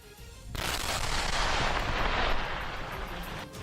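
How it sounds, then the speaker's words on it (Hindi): Controlled detonation of unexploded Russian bombs in a pit during the war in Ukraine: after a quiet moment a sudden loud blast erupts into a sustained, rumbling roar that slowly fades over several seconds. "जैसे ही उन सभी बमों को धमाके में उड़ाया गया, वहां धूल का गुबार छा गया।"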